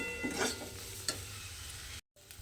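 Coriander leaves being stirred into a frying eggplant curry, with a steady sizzle and scraping spoon strokes close up, one sharper clink midway and a brief cut near the end.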